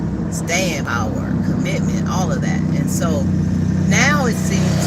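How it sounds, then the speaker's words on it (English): Cars driving past outdoors make a steady, loud road hum underneath a person talking close by throughout. "excuse the noise of the cars going by"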